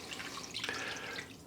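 Water pours into a pot to cover a brisket, a steady splashing rush of liquid that lasts the whole moment, close and fairly loud, with no voices.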